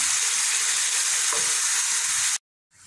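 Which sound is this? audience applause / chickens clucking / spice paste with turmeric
spice paste with turmeric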